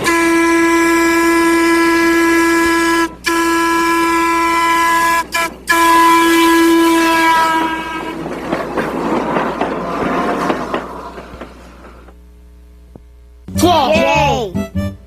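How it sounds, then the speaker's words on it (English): Interurban trolley train, a big electric car running between cities, sounds a long, loud, steady multi-tone horn broken by short gaps, then gives way to rumbling rail noise and clatter, with a final burst of sound near the end. "Interurbans are big trolley cars that used to run between cities."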